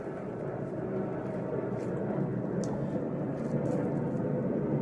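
An airplane flies overhead, a steady broad roar that swells slightly as it passes, with no voices.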